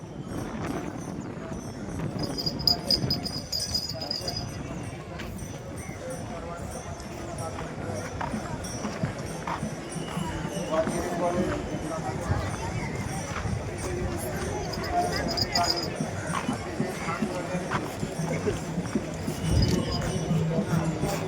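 Mares of the Sant Dnyaneshwar palkhi procession, the pair that run in the ringan: hoof clip-clop and horse sounds close by, amid a crowd's babble and people talking throughout.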